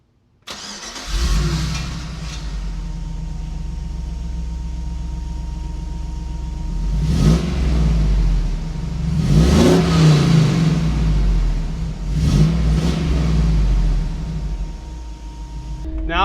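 A 40-year-old Toyota fitted with a 5.3 LS V8 cranks and fires up, settles into a steady rumbling idle, then gets several throttle blips that swell the revs before dropping back, loud and close throughout.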